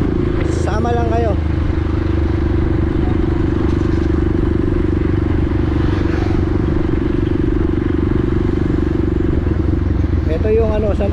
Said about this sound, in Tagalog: Makipot nga ang daan. May mga motor at mga tao.